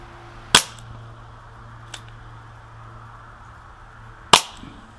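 Two sharp, loud CO2 BB shots from a Dan Wesson 8-inch or Umarex S&W 327 TRR8 revolver fired through a chronograph, with a fainter click between them over a steady low hum and no talk.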